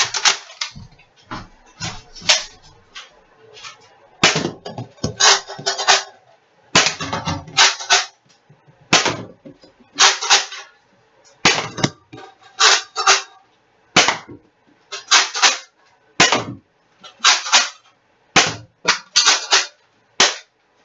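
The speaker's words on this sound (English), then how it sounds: "Third and final time, I'm going to be shooting in the same spot." A Nerf Rival Apollo XV-700 blaster fires about fifteen sharp shots in an irregular series, each a crisp snap with a brief mechanical rattle, fairly close and loud, with no talking.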